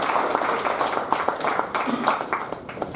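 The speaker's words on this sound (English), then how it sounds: "big round of applause" Audience applause at a rapid-fire panel meeting: a dense, steady wash of many hands clapping at moderate loudness, with scattered sharper claps and faint voices mixed in.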